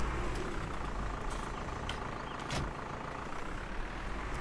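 Engine of an 80-horsepower Major 80 tractor in Farming Simulator 19, a steady, low rumbling idle with faint clanks, heard alone and fairly quiet.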